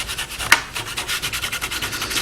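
A grinder works plastic into a wood-like finish, giving a steady rough rubbing, sanding rasp in quick repeated strokes with one sharper scrape near the start, close and alone.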